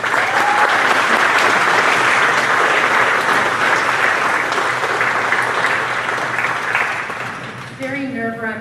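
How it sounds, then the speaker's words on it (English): Loud, steady applause from a large crowd at a college honor society induction ceremony fills the room, then fades out and gives way to a voice speaking at the end. "if we can give them a round of applause."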